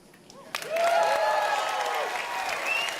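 After a brief quiet moment, an audience at Bethesda's E3 2018 presentation bursts into sustained applause mixed with whistles and cheers, holding steady until the end.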